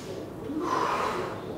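Forceful breathing during a breathing exercise routine, a steady airy rush of air with a stronger swell in the middle, close and fairly loud, with no talking over it.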